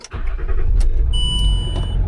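A Land Rover engine turns over and settles into a steady idle, a loud low rumble filling the clip, with a high electronic beep or whine joining partway through.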